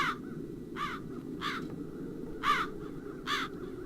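Crows in the video game Chains of Satinav caw in a run of five harsh calls at uneven intervals, clear and fairly close over a low ambient hum.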